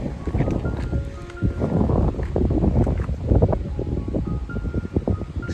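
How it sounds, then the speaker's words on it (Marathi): Strong, gusty wind buffeting the microphone on a hilltop above a swollen coastal creek in rural Konkan, loud low rumbling roar that rises and falls throughout without speech. "वारा खूप असतो इथे"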